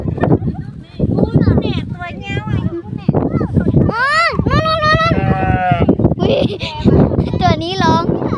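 Sheep bleat repeatedly up close on an Australian sheep farm, wavering cries rising over a steady stream of people chatting nearby.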